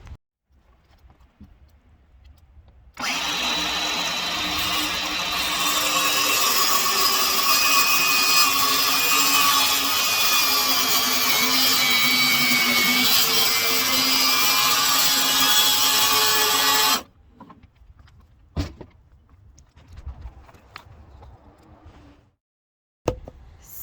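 A power tool shaving a 2x4 wooden post for truck sidewalls, one loud continuous whining cut lasting about fourteen seconds, then quiet with a few scattered knocks and clunks.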